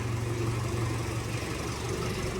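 Low, steady engine drone of a tractor running in a village field, a continuous rumble with no clear revving, heard at moderate distance with no talking.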